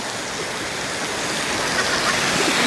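Rain pours steadily over an open rice field, a dense, even hiss of falling water with no breaks, loud and close throughout.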